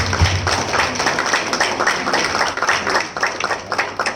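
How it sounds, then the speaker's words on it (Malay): Thunderous applause for Prabowo at a multi-level marketing business gathering, a dense sustained crowd clapping that rolls on steadily throughout without any voices over it. "Tepukan gemuruh untuk Prabowo ini"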